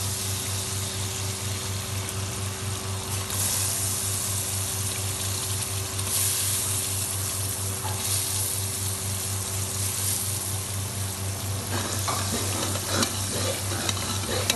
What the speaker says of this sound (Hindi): ये व्यूअर्स मैंने ना किशमिश भिगोई हुई थी, एक प्याली है। इसको मैं इसमें ऐड करने लगी हूँ।